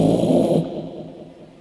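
A voice imitates a long, rumbling snore in a single drawn-out breath. It starts loud and noisy, then fades gradually.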